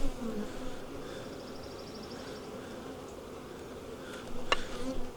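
Honeybees buzz steadily and close while a hot-tempered hive is worked in a farm yard, a continuous droning hum that holds through the whole stretch with a brief sharp knock near the end.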